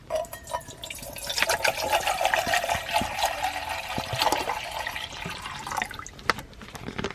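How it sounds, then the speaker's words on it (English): Bottled water pours into the pot of a Dash Mini rice cooker inside a car, a continuous splashing fill lasting several seconds before easing off into a few trailing drips. "So let's take one of the bottles of water and fill the pot."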